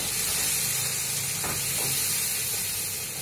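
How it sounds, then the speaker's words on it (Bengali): A masala of chilli powder and salt sizzles in a pan after a splash of water is added, giving a loud, dense, steady steaming hiss up close with a couple of brief bubbling spurts and no talking. "একটু জল দিয়ে মশলাটাকে কষে নিচ্ছি"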